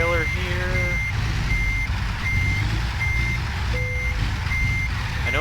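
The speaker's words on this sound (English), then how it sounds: "I might turn off the backup beeper because it is extremely loud" A truck's backup beeper sounds in American Truck Simulator, sharp evenly spaced beeps repeating loudly over a steady low engine drone.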